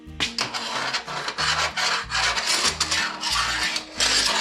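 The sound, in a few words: screw being driven into wood for a workbench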